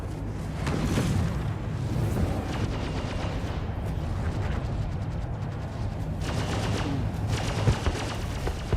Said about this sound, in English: I'm gonna get us closer so we can look at the explosion